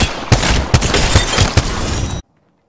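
Gunfire in Apex Legends rattles in a dense, loud, continuous burst of shots with sharper cracks punctuating it, then cuts off abruptly into silence.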